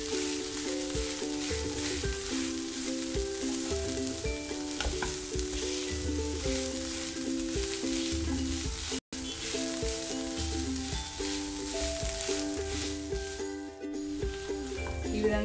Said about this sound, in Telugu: ఈ కట్ చేసుకున్న ఖర్జూరం కూడా వేసేసుకొని మళ్ళీ ఫ్రై చేసుకోవాలి.